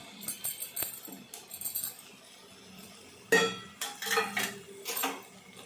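Fried potato pieces are tipped into a pot of chicken curry with a spoon. The spoon clinks and scrapes against the metal pot in uneven bursts, close by and with no talk.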